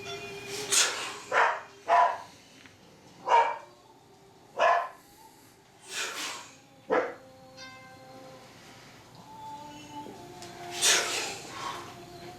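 Several people give short, separate barking shouts in imitation of a dog during a qi gong session, spaced a second or two apart, with a quieter stretch before a final burst.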